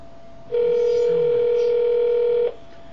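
A phone ringback tone on an outgoing call: one steady, continuous tone lasting about two seconds, starting and stopping cleanly, clear and fairly loud over faint background noise.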